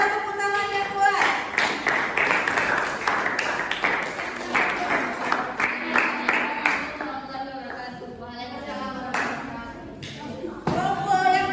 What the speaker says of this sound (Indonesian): Kelompok 2, tepuk tangan yang kuat.